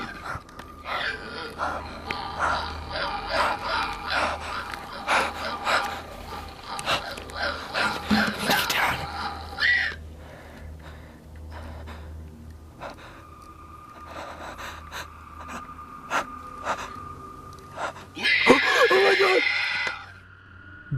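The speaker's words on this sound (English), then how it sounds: "Judging by the way he's breathing, he seems genuinely fearful while he's up there" A frightened man up in an attic breathes heavily in short, ragged gasps and snorts, close to the microphone, with bursts of sharp rustling noise and a faint radio-like hum in the background.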